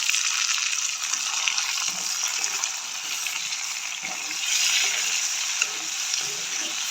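Vegetables sauté in a pan for a Jaffna-style tin fish curry, giving a steady, close hiss of frying oil that carries on evenly with only slight swells and no voices.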